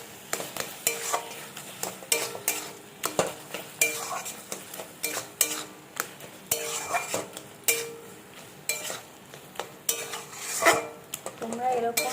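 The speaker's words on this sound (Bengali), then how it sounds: "আমি এই মশলাটাকে ঢেলে দেবো, দিয়ে আবারও নাড়াবো" Spice is tipped into a hot pot and stirred, a metal spoon scraping and clanking against the pot in quick irregular strokes over a soft sizzle, close and fairly loud.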